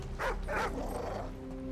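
A dog in the video game Call of Duty 4: Modern Warfare gives two quick, close barks or yips, followed by a fading low whimpering tail over a steady background hum.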